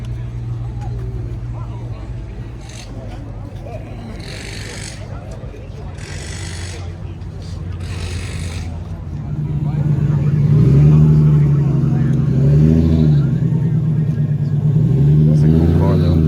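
A V6 Buick Grand National drives past with a low, rumbling exhaust note that grows louder and closer partway through, while people nearby keep talking over it.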